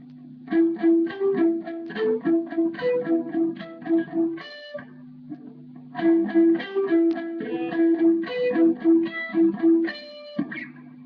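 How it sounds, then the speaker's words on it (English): Palm-muted electric guitar chords chug in short rhythmic bursts over a sustained drone note, the phrase played twice with brief ringing chords at each end. "The first part is muted pretty heavily and is centered around three different chords."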